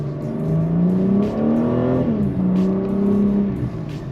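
Stock exhaust of a 2022 BMW M4 Competition with its inline-six revving, a loud, close engine note that climbs steadily, dips briefly, then holds a high drone through to the end with no talking.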